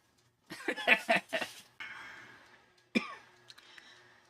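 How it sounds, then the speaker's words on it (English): A burst of harsh, rapid coughs close up, followed by throat clearing and another single cough. "The cough is really starting to aggravate."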